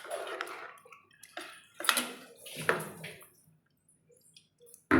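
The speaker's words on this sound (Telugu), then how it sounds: "మొత్తం ఒక పెద్ద గ్లాస్ నీళ్ళు వేసుకుందాం." Water tipped from a large glass into a pot of chicken curry gives several close, splashy bursts with short pauses between them, then a sharp clank near the end.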